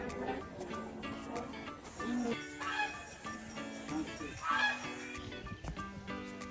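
Farm ducks near the India-Bangladesh border quack in repeated harsh, nasal bursts at moderate distance, several calls rising and falling over a few seconds against outdoor background noise.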